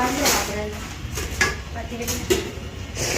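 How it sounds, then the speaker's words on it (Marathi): Steel cooking pots from a set being handled, giving a few sharp metallic clinks and knocks close by while people talk. "हा पातेल्यांचा सेट आहे"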